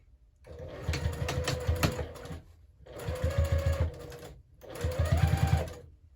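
A sewing machine stitches a zipper pouch closed with a narrow seam, running in three steady bursts separated by brief pauses, close and fairly loud with no voices.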